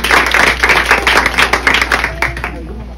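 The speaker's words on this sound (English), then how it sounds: "Give them a round of applause." An audience at a kindergarten graduation and awards ceremony claps for the young graduates, a loud, uneven patter of hands that swells and thins in quick bursts, close to the recorder.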